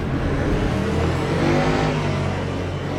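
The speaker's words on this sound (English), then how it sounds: "I can hear that the motors on that Ferrari, such a distinct sound." A Ferrari race car engine in a racing video game roars steadily with a high, distinct whine, loud and continuous without any talk.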